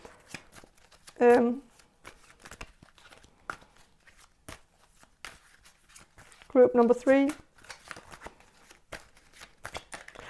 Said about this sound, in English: I'm gonna shuffle some more cards about what this person finds attractive about you.